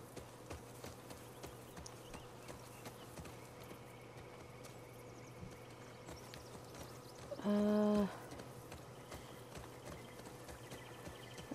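Soft horse hooves clip-clop at an even pace in the game The Last of Us Part 2, faint under a quiet ambient bed, with a brief brighter tone partway through.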